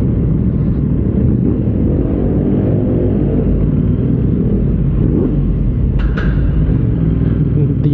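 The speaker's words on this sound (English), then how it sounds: "rumble is really good" Aprilia RS660 Extrema sport motorcycle engine giving a steady, loud low rumble throughout, with a couple of brief sharper clicks near the end.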